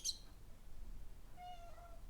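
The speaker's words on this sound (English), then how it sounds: "If you're hearing our cat" A faint, short cat meow nearby as the cat plays with a toy fish, followed by a quiet, drawn-out mewing sound in a hushed room.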